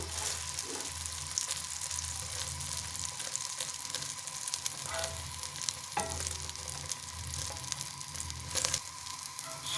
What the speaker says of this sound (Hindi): अब दूसरी शामी हम फ्राई कर लेते हैं।